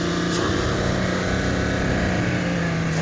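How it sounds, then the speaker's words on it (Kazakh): A 1991 Chrysler with a 1.8-litre engine idling at a used-car market in Almaty, a steady, close, continuous engine drone with a constant low hum and no speech. "Крайслердің дауысы, Крайслердің дауысы."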